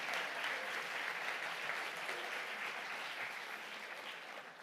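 A plenary audience at a conference applauds a speaker invited onto the stage, sustained clapping heard from a distance that gradually thins out toward the end.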